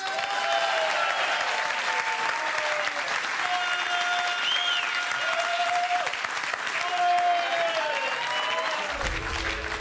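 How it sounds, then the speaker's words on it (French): An audience at a carnival quiz show applauds guests brought on stage, dense continuous clapping throughout with whistles and cheering voices rising above it, cut off abruptly near the end. "Je vous propose qu'on les applaudisse."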